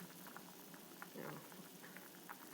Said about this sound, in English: I am doing the boiling method because I don't feel like cleaning off a grill pan